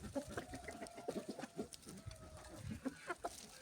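Chickens and roosters cluck steadily at a farm feeder in winter, a busy flock of close, repeated calls and chatter with no one talking.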